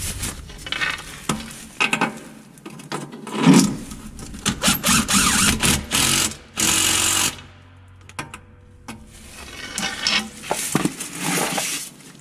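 Ratchet and socket tighten the damper bolt while fitting lowering springs to a Citroen DS3, giving close, rapid clicking and grinding bursts with brief pauses between them.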